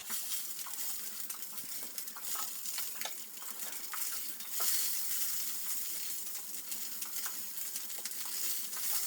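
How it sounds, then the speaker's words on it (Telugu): Tempering seeds splutter in hot oil and green chillies are dropped in, making a close, crackling sizzle with scattered sharp pops and light stirring scrapes, and no voices. "చిట్టుపట్లు ఆడుతుంటేను ఇందులో పచ్చిమిరపకాయలు ఇందులోనే వేసుకోవాలండి"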